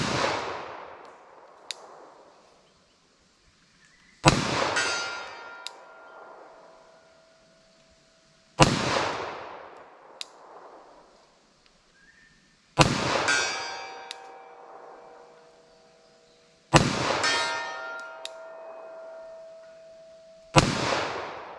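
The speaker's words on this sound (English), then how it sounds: "I'll start up with my 45 here." A .45 ACP pistol fires five slow, evenly spaced shots, each a sharp loud crack followed by a decaying echo, with a distant metallic clang from a steel target at 75 yards ringing after several of them.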